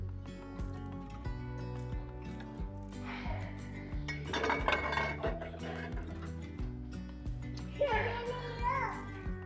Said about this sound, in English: there are 5 kiddos running around the house, so it is a little bit noisy and chaotic.